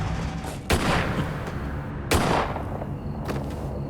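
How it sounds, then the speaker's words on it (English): Two loud gunshots about a second and a half apart, each a sharp blast with a short decaying tail, heard over a low background in a true crime reenactment. "was shot execution style in the back of the head"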